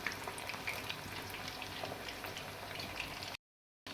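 Chicken pakora fries in oil over a low flame, a quiet, close, crackling sizzle with scattered pops that runs evenly before cutting out briefly near the end.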